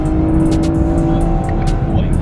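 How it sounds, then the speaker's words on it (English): A 2018 Chevrolet Camaro RS sports car engine revs high in a sustained, loud drone, with a faint hiss of road noise underneath. "So the key with this engine is you have to really rev it out."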